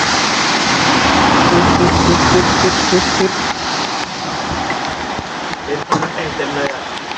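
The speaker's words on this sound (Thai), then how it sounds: "ฝนเอาเรื่องอยู่นะ" Heavy rain pours steadily during a motorcycle trip between Chiang Mai and Chiang Rai, a loud dense wash blended with road and engine noise that eases slightly partway through, with a voice talking over it.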